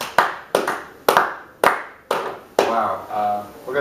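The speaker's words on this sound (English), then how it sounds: "Round of applause." Several short bursts of clapping from a small group, each swelling and fading, followed by a longer steadier round of applause with a voice faintly underneath.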